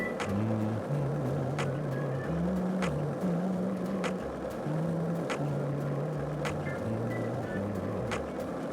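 In a video game, a car engine hums and shifts pitch up and down as it drives along a road, heard steadily throughout with regular ticks and occasional speech.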